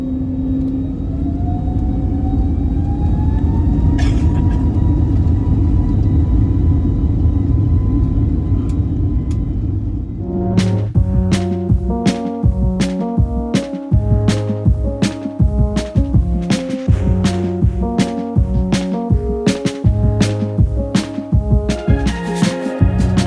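Engines of an Airbus A321neo airliner build to a loud, steady roar heard from inside the economy cabin during takeoff, before music with a regular beat takes over.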